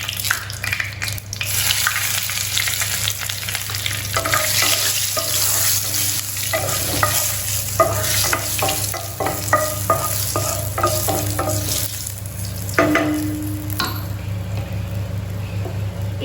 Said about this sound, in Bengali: তো অয়েলটা গরমই আছে, তাই আমি শুকনো লঙ্কা আর তেজপাতাটা দিয়ে দিলাম।